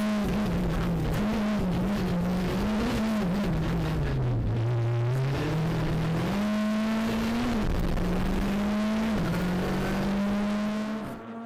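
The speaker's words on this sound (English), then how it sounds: "Here's Guilain de Mévius with Andrelé in the Skoda Fabia R5." A Skoda Fabia R5 rally car at the Spa Rally stage in Belgium roars continuously through the whole stretch, engine note rising and dipping with gear changes as it approaches and drives past, loud and close, with no talking.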